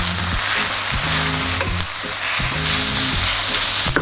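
Oyster mushrooms cook in a pan for a vegan brandade, with a steady, close sizzle over a low humming drone and a few soft clicks.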